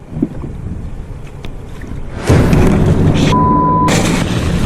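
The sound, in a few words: shark biting a kayak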